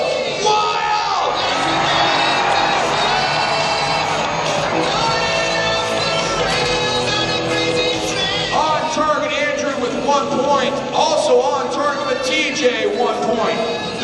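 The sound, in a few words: crowd cheering at a jousting match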